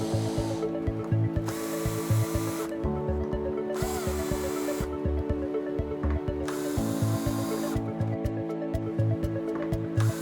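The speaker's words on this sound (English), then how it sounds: "Remove these screws and the 2 on the side of the air duct. Again, you will need Phillips and hex head drivers." Phillips and hex head drivers remove screws from a Bluetti AC200MAX power station, giving a steady run of ratcheting, clicking driver turns. The ticking repeats continuously through the clip, close and moderately loud, with no talk.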